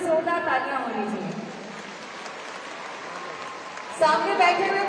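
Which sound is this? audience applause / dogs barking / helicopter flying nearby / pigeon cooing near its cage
audience applause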